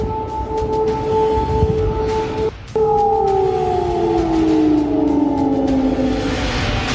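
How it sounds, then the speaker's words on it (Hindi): Air raid siren wailing across Kyiv during wartime attacks, a loud steady tone that briefly cuts out, then resumes and slowly slides downward in pitch, sustained throughout with no voices. "कीव के लोग एयर रेड सायरन की कान पूरी आवाज से पूरी रात जाग कर काट रहे हैं"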